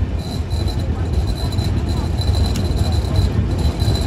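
The Ruposhi Bangla Express runs non-stop toward Kamalapur, a steady loud rumble of wheels and carriage noise with a faint high whine, heard from inside the moving train.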